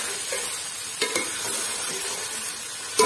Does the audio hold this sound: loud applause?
no